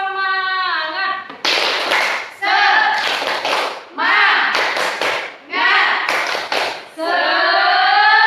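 An elementary classroom does a rhythmic cheer-clap, bursts of sharp unison hand claps in patterned groups alternating with the children chanting, close and loud.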